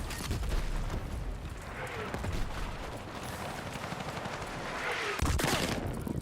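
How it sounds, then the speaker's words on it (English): Mortar explosions in a video game: a dense, continuous barrage of booms and sharp gunfire-like cracks, with a heavy burst near the end, loud and close. "I'm getting hit by mortars, dude."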